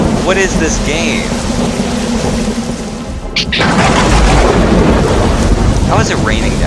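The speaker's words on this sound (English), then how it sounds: "How is it raining down here?" Rain and thunder in a multiplayer video game: a steady hiss of rainfall under a deep rumbling thunderclap, with a brief break midway and faint voices early on.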